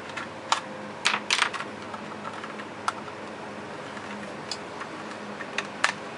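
Someone takes apart a camera case to build a home-made taser, producing scattered sharp plastic clicks and snaps, some in quick clusters and others spaced out, close up and without speech.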